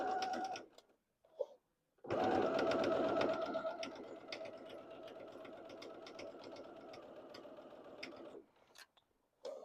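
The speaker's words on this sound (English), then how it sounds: "I am sewing very close to that folded edge." Sewing machine stitching along the folded edge of a homemade apron, a steady close mechanical whir running for several seconds after brief start-stop bursts, then cutting off.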